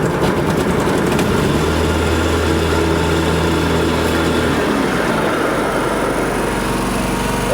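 A riding lawn mower engine idles steadily while warming up, a loud, close, continuous drone that holds throughout with a slight shift in pitch near the end.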